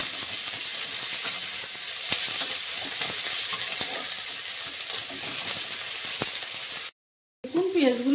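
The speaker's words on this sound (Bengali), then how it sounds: "এবার এগুলি আমি লাল লাল করে ভেজে নেব।" Chopped onions fry for a wedding-style mutton curry, giving a steady close sizzle and hiss with occasional stirring taps, broken near the end by a brief dropout before a short burst of other sound.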